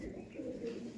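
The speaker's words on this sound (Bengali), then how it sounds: "পায়রা দেখুন, পায়রা টেলটাই দেখুন" A pigeon, one of a fancier's kept Laldom or Kaldom birds, gives a brief low coo, faint and close in a quiet setting.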